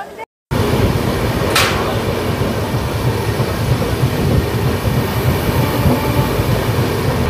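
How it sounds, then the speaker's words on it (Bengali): Passenger train of the Kolkata to New Jalpaiguri service, a loud, steady rolling rumble with rail noise and a droning hum, close by and continuous, after a brief cut at the start. "ট্রেন আবার ছেড়ে দেবে পরবর্তী স্টেশনের উদ্দেশ্যে"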